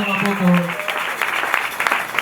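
A church congregation at a Sunday evangelical service claps and cheers, with steady dense applause mixed with raised voices under a speaking voice.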